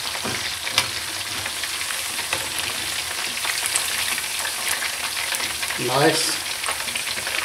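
Chicken lollipops frying in hot oil until golden brown give a loud, continuous crackling sizzle with spatters throughout and a short burst of stirring near the end; a voice briefly speaks once.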